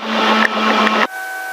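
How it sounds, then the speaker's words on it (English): Rotor and engine of a training helicopter on a flight lesson, heard from inside the cabin as a loud, steady whine and rush that suddenly falls to a thinner tonal hum. "Now, I'm going to slowly slow the rotor blade down."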